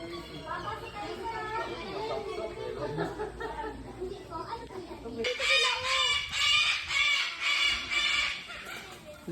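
A rooster crows and clucks repeatedly at close range, its harsh harmonic calls growing louder in the second half while people talk nearby.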